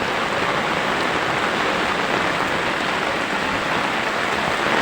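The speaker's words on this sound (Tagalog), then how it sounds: "Walang patid ang ulan guys." Heavy rain pours without pause during a flood that is rising into a house, a dense, steady hiss of water on surfaces holding level and loud from start to finish with no voices.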